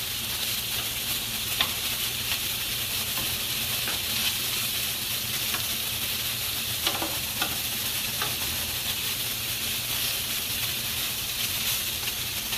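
Sausage with peppers and onions frying in a pan, a continuous bright sizzle and hiss close to the mic, with scattered faint clicks and scrapes of stirring.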